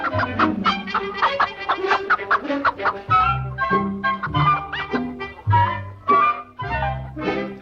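A rooster in a 1963 Disney film soundtrack clucks and squawks in a busy run of throaty calls, loud and close, with a few honking notes mixed in.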